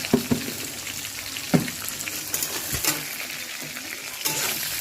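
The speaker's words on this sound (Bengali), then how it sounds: "কাঁচা লঙ্কাটাও অ্যাড করে দিলাম তার সাথে, ভাজা ভাজা হোক" Garlic and green chilies, lightly salted, fry in hot oil in a pan, a continuous close sizzle broken by several sharp stirring knocks and scrapes.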